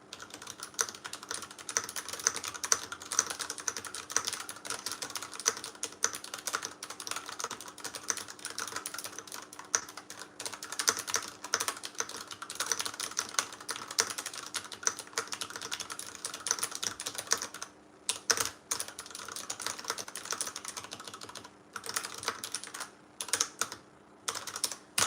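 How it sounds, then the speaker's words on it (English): Steady, rapid typing on a computer keyboard, dense clicky keystrokes continuing for the whole stretch with a few brief pauses near the end. "This is the typing test."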